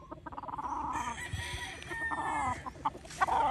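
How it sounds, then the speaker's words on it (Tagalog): Gamefarm hens cluck and chatter in a dense, busy flock, with overlapping calls and a rooster's crow mixed in, close and lively throughout. "Ito section na to puno ng hen ito."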